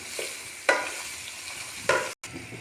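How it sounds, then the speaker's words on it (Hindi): Tripe frying in oil with spices in a pan, a steady close sizzle broken by two sharp stirring scrapes and a brief cut near the end; no voices. "अब इसको भूनेंगे, 5 मिनट इसको लगेगा भूनने में।"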